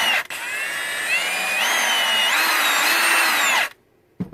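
A Milwaukee M18 Fuel Gen 2 half-inch high-torque impact wrench runs forward for about three and a half seconds, its loud motor whine stepping up in pitch as the variable speed trigger is pressed, then cuts off abruptly.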